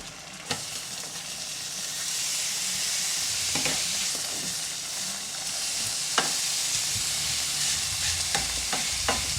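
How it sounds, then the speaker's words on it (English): Bacon sizzles steadily in a frying pan, a constant bright hiss broken now and then by sharp pops and a few scraping sounds. "We got the bacon in the frying pan doing this thing."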